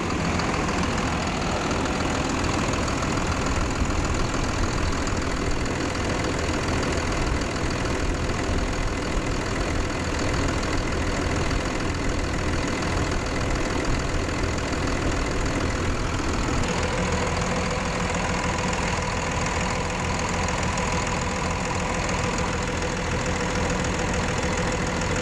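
A 2001 Dodge Cummins 2500 diesel pickup engine idles steadily and close by, a dense continuous rumble with a slight knocking texture that shifts tone partway through, with no talking over it.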